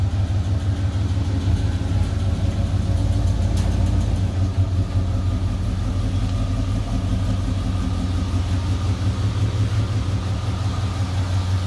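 A 1987 Chevrolet El Camino sits idling after a cold start on a warm, sunny Florida day, its engine giving a steady, close, low rumble that stays even throughout, with no talking over it.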